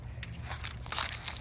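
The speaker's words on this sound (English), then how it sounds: "I got some crunchy leaves out here today." Crunchy dry leaves crackle and crinkle underfoot outdoors in a few quick, soft bursts, heard close but faint.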